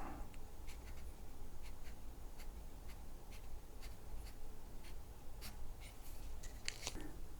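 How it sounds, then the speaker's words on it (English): A marker writes a label on an electric unicycle part, giving soft, faint scratching strokes in short bursts over a quiet room hiss. "I will label this as left pedal"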